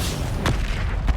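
A Confringo fire-blast spell in Hogwarts Legacy bursts with a short booming impact, followed by a fainter second thump within a second, over dense battle ambience.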